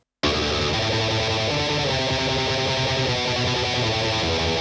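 Crunchy, overdriven electric guitar, recorded with an SM57 and a 201 mic together, starts abruptly and keeps up a dense, driving metal riff, loud and full-bodied, alone without speech.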